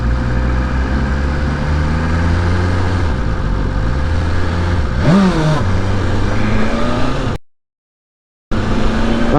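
A 2023 BMW S1000RR motorcycle accelerating hard on the road, loud engine note rising through gears with a sharp upshift, then a brief cut and the engine resuming.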